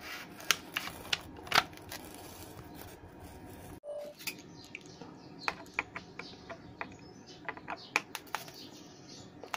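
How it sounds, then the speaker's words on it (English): Quiet, close clicks and small metallic ticks of a screwdriver backing screws out of a switch on an electrical extension board, irregular and faint over a soft background hiss. "Remove the screws"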